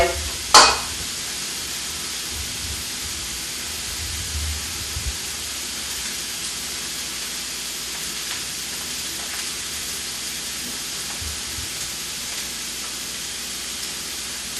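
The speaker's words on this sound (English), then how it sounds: "when you let this sear on high heat for a couple minutes on each side" Meat searing in a skillet over high heat gives a continuous close sizzle and crackle, with one sharp clank near the start and faint scrapes later.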